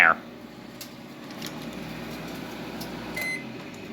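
A microwave oven hums steadily with hot dogs inside, a sharp crackle at the very start followed by faint intermittent ticks and pops as they spark.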